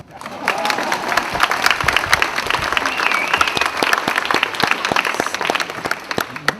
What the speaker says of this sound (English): Don't be shy, feel free to clap.